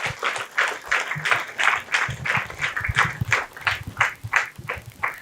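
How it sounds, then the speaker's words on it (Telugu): An audience at a pyramid trust stage event claps steadily for a guest being invited up, producing a quick run of rhythmic, moderately loud hand claps that continues without a break. "గట్టిగా చప్పట్లు."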